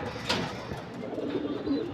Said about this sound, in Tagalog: nagmo-monitor tayo ng ibon